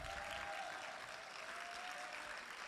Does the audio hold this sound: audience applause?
yes